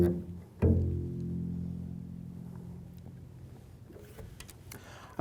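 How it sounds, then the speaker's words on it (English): A single double bass string plucked pizzicato gives one deep, round thump that rings out and slowly decays, close and otherwise quiet with faint room noise trailing after. "by using your right hand and plucking the strings,"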